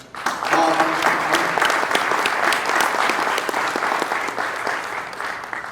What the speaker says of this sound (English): a round of applause perhaps for